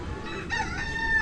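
A rooster crows in a brief, drawn-out call over steady outdoor background noise, fairly close and clear, with no one talking over it.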